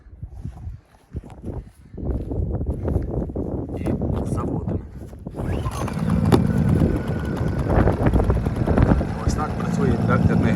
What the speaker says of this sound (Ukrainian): давайте ми заведемо і от послухаємо, наскільки приємно і і тихо працює настоящий інвекторний генератор